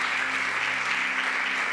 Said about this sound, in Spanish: Dele palmas al Señor por estar en el que es,